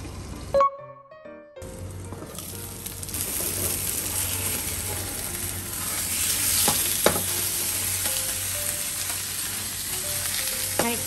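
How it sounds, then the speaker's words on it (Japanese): Seafood steam-frying in a covered pan on its second side, a loud, steady hiss and crackle after a brief quiet start, with a few small clinks and taps over it. "では裏面も蒸し焼きしていきます。"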